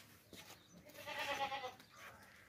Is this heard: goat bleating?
yes